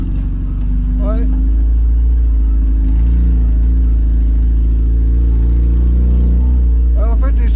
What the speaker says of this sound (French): Alors, en fait l'échappement il est là-dessous là. C'est pour ça que ça fait du bruit. Allez accélère.